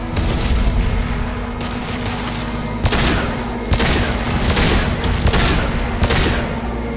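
Mass Effect 2 gunfire: sustained bursts of rapid shots and heavy booms, loud and dense, with no talking.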